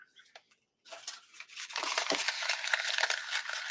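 Dense, crackling rustle of paper being crumpled close to the mic for a few seconds, imitating the snap and hiss of a fire after a brief quiet start.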